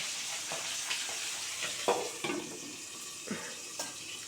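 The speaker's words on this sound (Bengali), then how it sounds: "দেখি খুব তো ফাটছে চটপট করে" Katla fish head frying hard in an uncovered pan, hissing steadily with several sharp, loud spluttering pops scattered through it, close up, with no voices.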